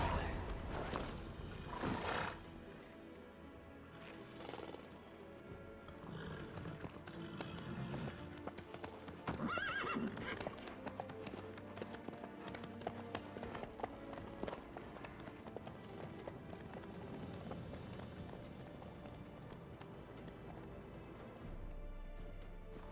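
Horse hooves clip-clop in The Witcher 3: Wild Hunt, a steady trotting rhythm under game ambience, with scattered thumps and a possible brief whinny partway through.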